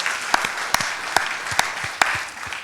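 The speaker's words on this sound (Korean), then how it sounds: "우리 위로하고 감사하는 박수 하겠습니다" A church congregation claps in thanks and comfort during a Sunday service, a soft, distant-sounding patter of many hands with a few sharper individual claps standing out at intervals.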